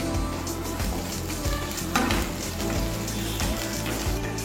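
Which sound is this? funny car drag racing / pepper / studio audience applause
pepper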